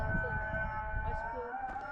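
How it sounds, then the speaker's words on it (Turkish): Islamic call to prayer (ezan) sung over a loudspeaker in the mountain setting of Saklıkent, a sustained melodic voice holding steady drawn-out tones, carried from a distance under continuous low rumble. "Ezan da okunuyor."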